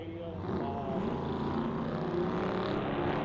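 An off-road racing truck engine drones steadily at a distance during a SNORE desert race at Primm, a continuous mid-loud roar with a voice talking over it.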